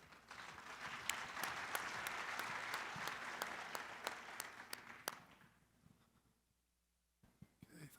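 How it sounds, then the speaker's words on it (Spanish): An audience at a mining conference applauding a speaker, dense sustained clapping with crisp individual claps on top that fades out to near silence, followed by faint handling noise. "Un fuerte aplauso, por favor, para Julian."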